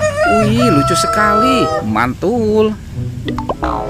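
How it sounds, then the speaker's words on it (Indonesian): A toy rooster crows loudly in a long, wavering, bright cock-a-doodle-doo, followed by a few shorter squawking calls, with a voice speaking briefly near the end. "Ini ada ayam berkokok teman-teman."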